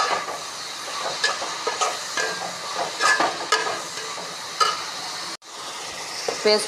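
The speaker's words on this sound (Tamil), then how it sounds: "இது நல்லா வதங்கட்டும்." Tomato paste with turmeric sautéing in a pan for a masala pepper chicken gravy, a steady close sizzle and hiss with scattered stirring scrapes and a brief break near the end.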